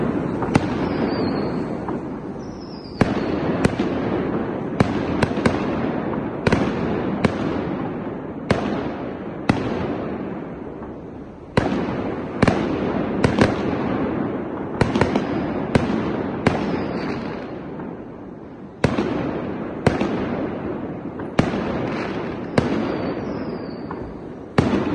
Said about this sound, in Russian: Небольшое время прервались на салют.